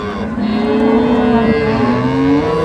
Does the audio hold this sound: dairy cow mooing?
yes